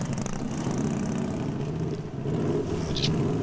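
A custom chopper motorcycle built from a kit with a big wheel revs its engine close by, a steady loud exhaust roar with slight rises in pitch, heard alone without talk.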